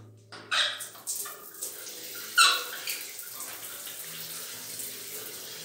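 Water runs and splashes from a shower pipe after the main valve has been shut off, a steady hiss with a few louder splashing bursts near the start, fairly faint and alone.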